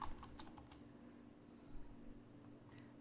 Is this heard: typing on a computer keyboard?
yes